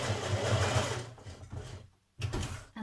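A sewing machine stitches a dart on a Burda 6223 dress with a steady close whirr that stops briefly near the end, then starts up again.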